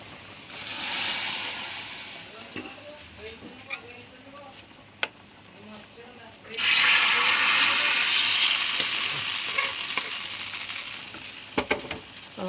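A tempering of shallots and curry leaves hits the pan for a dried prawn and ridge gourd curry: faint background sizzle, then a sudden loud, hissing burst that keeps crackling, with a few sharp clinks.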